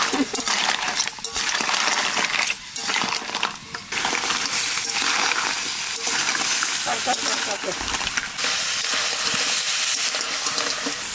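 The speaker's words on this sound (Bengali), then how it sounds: "পেঁয়াজ আর কাঁকড়াটা একটু একসাথে ভেজে নিলাম।" Crab and onions frying in a pan, a loud, close sizzle that surges and dips as the pieces are stirred, with scraping and clinking between bursts and no talk.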